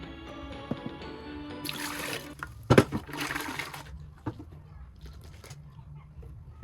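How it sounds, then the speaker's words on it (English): Water splashing and swirling inside a blender jar being rinsed after blending coconut for homemade coconut milk, close and uneven, with bursts of sloshing and clatter over a low hum. "Rinse the blender with some water."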